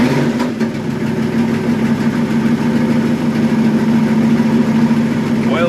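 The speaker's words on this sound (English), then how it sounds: "So if I turn the truck on," A cold Dodge D100 pickup truck engine on a full tank settles into a steady, even idle, its low droning rumble running unbroken from start to finish.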